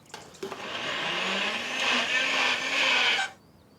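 An electric blender whirs loudly for about three seconds, blitzing ginger with water, olive oil and vinegar, then cuts off abruptly.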